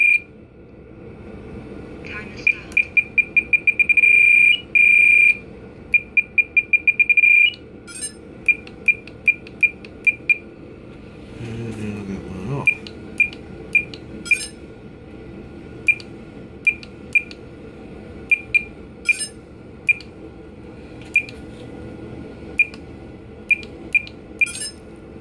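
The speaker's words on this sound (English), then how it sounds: "or a trim's off, it will beep." A Blade 350 QX v2 quadcopter emits rapid high electronic beeps in dense bursts early on, then spaced single beeps, sounding close by while someone talks.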